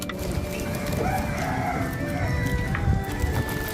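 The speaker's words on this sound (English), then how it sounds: "I hear a rooster." A rooster crows at moderate distance over a steady, busy background of ambient noise and low rumble, with faint clucking fowl mixed in.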